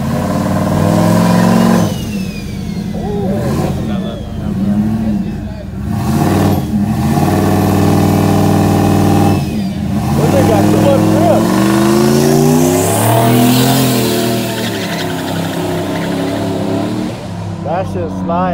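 At a car meet in Pompano Beach, a car revs hard in repeated surging bursts with tire spin during a failed burnout, loud and close, while people talk nearby.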